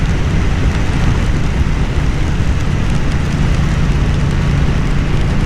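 Heavy, unbroken rain roars around a rider on a Triumph Bonneville T100 motorcycle on a cold day, a loud, dense wash of spray and wind with a low rumble underneath and no speech.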